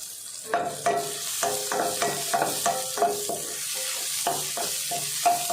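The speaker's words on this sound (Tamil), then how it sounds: "சின்ன வெங்காயத்தை சேர்த்துட்டு 1 நிமிஷத்துக்கு நல்லா வதக்கிடலாம்" Small onions and dried red chillies sauté in a pan for keerai poriyal, a soft sizzle under repeated scraping clinks of a spatula stirring against the metal in an uneven rhythm, close up with no speech.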